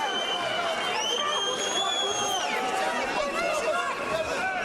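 A heavyweight boxing arena crowd roars and murmurs in a continuous, loud wash, with cheering voices rising and falling, while commentators talk over it throughout.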